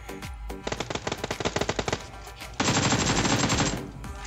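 Video game gunfire: a quick string of sharp single shots is followed, after a short gap, by a louder sustained automatic burst that ends abruptly. The shots are close and clear.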